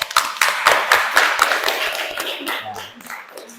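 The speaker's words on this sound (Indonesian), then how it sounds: "Tepuk tangan untuk semuanya." Classroom clapping, with a short burst of hands from a small group near the listener that thins out and fades, leaving scattered taps and a faint voice at the end.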